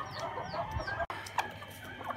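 Aseel chickens cluck softly and intermittently while feeding, with a few brief higher calls, fairly quiet and close, over low background noise.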